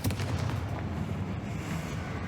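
A fiery Confringo spell blast in the video game Hogwarts Legacy sets off a loud, booming explosion that rolls into a dense, rumbling roar and holds steady throughout without fading.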